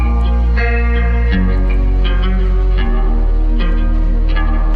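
Layered guitars with chorus and echo effects ring out in a dense, shimmering wash, chords shifting every second or so, with no talking.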